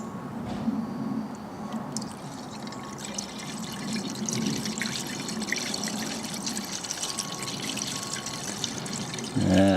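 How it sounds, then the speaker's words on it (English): Screen wash glugs and trickles as it is poured into the washer fluid reservoir of a BMW 7 Series during a service, a close, steady liquid pour with a brief clunk at the end. "Now, of course, just top up the screen wash."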